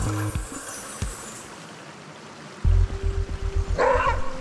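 A maned wolf barks nearby in Itatiaia National Park's forest, giving short gruff barks amid rustling and handling noise, with a louder burst of sharp calls toward the end.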